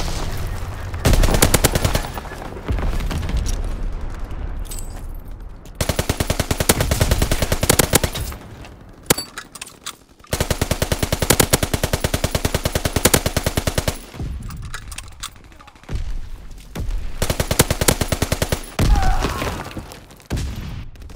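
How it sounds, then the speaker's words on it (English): Heavy automatic gunfire from the online multiplayer game Call of Duty WW2, long loud bursts of rapid machine-gun shots broken by short pauses and occasional thuds. "We have tactical advantage, keep firing!"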